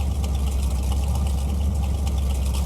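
A car engine in a garage mechanic video game, just started after an oil top-up, settles into a steady, loud idle with a constant low rumble throughout and no voices.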